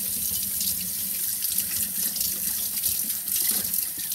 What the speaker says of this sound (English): Now we gotta wash the apple.